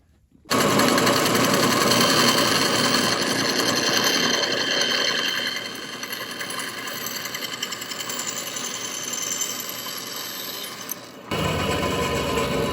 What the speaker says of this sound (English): We have a bandsaw, so that's what we're doing